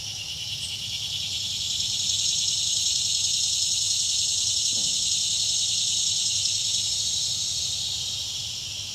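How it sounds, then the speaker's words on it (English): Cicadas drone in a continuous, shrill chorus around a state park campground at Elk Neck, Maryland, with a brief faint knock partway through. "It's just me and the cicadas."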